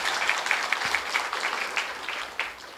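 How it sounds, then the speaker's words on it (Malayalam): An audience at an Onam celebration applauds, a steady wash of clapping hands lasting the whole stretch, fairly close and even, with no talk over it. "ടീമിന് മൊത്തം ഒരു നല്ല കയ്യടി."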